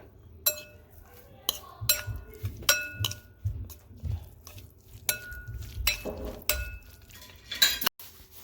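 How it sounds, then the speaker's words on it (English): A utensil scrapes and clinks against a bowl as sour cream is stirred with garlic dill sauce, black, white and red pepper, in repeated close strokes with soft thuds between them. "Mix it until completely combined."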